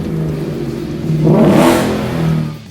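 A Ford Mustang GT S550 V8 fitted with a MagnaFlow resonator revs once, rising to a brief throaty peak and settling back to a steady idle rumble, close and loud.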